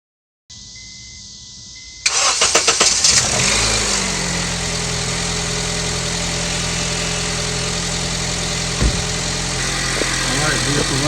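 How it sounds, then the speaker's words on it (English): A 2006–2011 Honda Civic engine cranks and catches after a brief hum, then settles into a steady, close idle that runs loud and continuous to the end. "Put this top on and start the vehicle"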